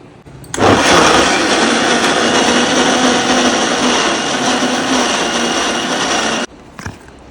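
A blender whirs loudly and steadily for about six seconds, mixing ice cream with milk and sugar, then cuts off abruptly, leaving a brief rattle afterward.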